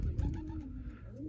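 Young racing pigeons coo inside a loft, a low, continuous murmur of soft, rolling calls close by.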